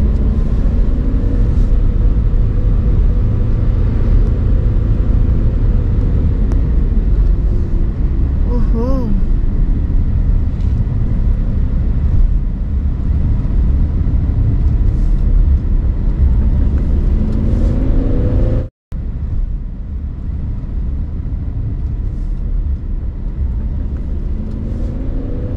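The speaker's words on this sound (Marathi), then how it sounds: "आता या धुक्यात ना आपली गाडी चालली आहे" A car drives along a foggy road, its steady low rumble continuous and close throughout, with a brief dropout near the end and a voice talking over the engine noise.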